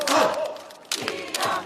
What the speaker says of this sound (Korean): 다시 한번 응원의 환호 이영석 외쳐주십시오.